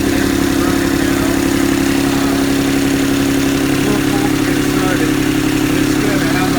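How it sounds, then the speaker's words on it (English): A Universal 25XPB diesel in a Catalina 30 sailboat idles on land during winterizing, giving a loud, steady, close chugging drone with a constant low throb and no break. "I've got the engine running now"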